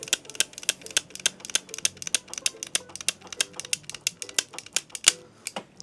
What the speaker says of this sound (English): And then you just ratchet it till it cuts, like this.